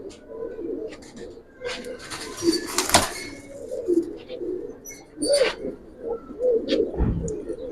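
Giribaz pigeons cooing in a loft, repeated soft close coos with a few flutters and knocks, a voice faintly in the background.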